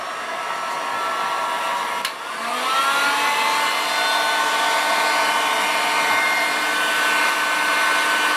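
A heat gun blows steadily on a Kydex plastic sheet being softened for a DIY shotgun shell caddy, a loud continuous whooshing hiss with a brief dip near the start before settling back to full strength.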